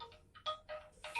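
A telephone rings indoors during a Sundanese comedy sketch, giving a few short electronic ringtone bursts in an irregular pattern, fairly quiet and without talk.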